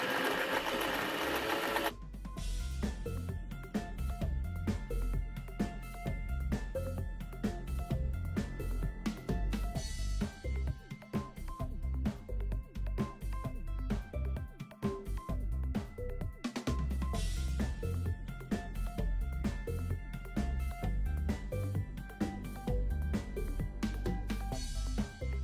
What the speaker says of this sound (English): Now I'm just going to stitch along this and give me a thin, just a thin top stitch.